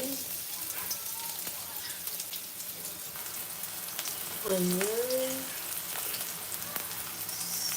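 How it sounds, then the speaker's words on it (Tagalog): Garlic and onion sizzling in a frying pan for a seashell dish, a steady close hiss and crackle with a short voice murmur in the middle. "We're going to put garlic. And then add the onion."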